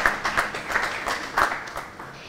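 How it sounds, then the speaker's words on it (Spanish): Audience applause at an architecture talk in Barcelona: a small crowd claps in uneven bursts, moderately near, fading toward the end with no talk over it. "Un fuerte aplauso para ella."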